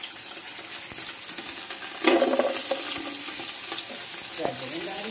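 Carrots and raisins fry in hot ghee for Afghani Kabuli pulao, a continuous close crackling sizzle that swells briefly around two seconds, with occasional light clinks and no talk.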